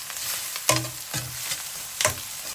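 Onions frying in a pan until nearly brown, a constant bright hiss with a few distinct stirring scrapes, close up and fairly loud, no speech.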